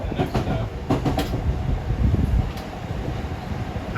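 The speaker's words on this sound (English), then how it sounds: "Making a clickety clack." MBTA commuter train on the Stoughton to Boston run rolling over rail joints, rhythmic clickety-clack under a loud continuous rumble heard from inside the cab.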